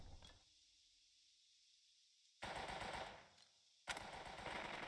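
Gunfire in the video game Burden of Command: two loud, rapid machine-gun-style bursts, one around the middle and another near the end, separated by a quiet gap.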